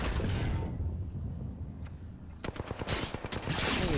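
Apex Legends gunfire: after a quiet rumbling stretch, a rapid burst of automatic shots cracks out close and loud, dense and rhythmic for about a second, then gives way to a noisy wash.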